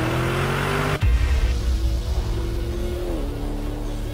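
A Lamborghini Urus SUV engine drones steadily at close range, with a sharp low-end surge after the first second as the drive picks up, then a continuous rumble that settles slightly lower toward the end.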